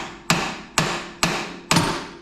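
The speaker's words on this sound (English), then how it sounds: "take the hammer and just give it a little tap on the bottom side" A hammer gives four sharp, evenly spaced taps to the bottom side of a part on a Honda Integra project car, each strike clear and close with a short ringing decay, and no talking.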